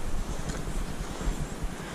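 Wind blowing outdoors around a holiday home yard in spring, where raked piles of leaves lie about; a steady, gusty low rumble buffets the microphone for the whole stretch with no talking.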